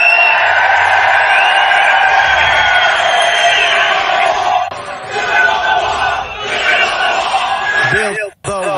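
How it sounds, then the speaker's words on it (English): A large crowd at a political rally roars and chants loudly and continuously for several seconds, a dense wall of voices that dips briefly before swelling again. "Are they cheering the wall?"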